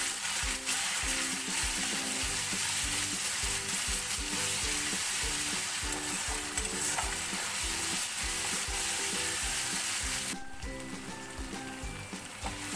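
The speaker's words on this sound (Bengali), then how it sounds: "গার্লিক আর দিচ্ছি জিঞ্জার পেস্ট" Ginger and garlic paste fries in a pan with lightly fried onions, giving a loud, steady sizzle with rhythmic scraping strokes of stirring throughout.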